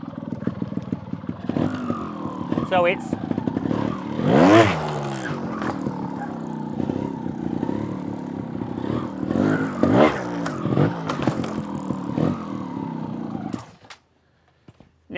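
A motorcycle used for obstacle riding revs repeatedly, with bursts of rising engine roar and clatter from the bike, close and loud, before cutting out near the end; someone says a few words at the start.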